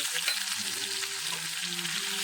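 Cumin seeds and green chilli with a little salt crackle in a small amount of hot oil for a tempering, a continuous close sizzling hiss with faint stirring underneath.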